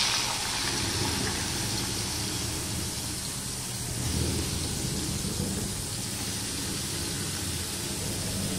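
Salted potatoes frying in hot oil, a loud, dense hiss and crackle that runs unbroken and close for the whole stretch, with no talk.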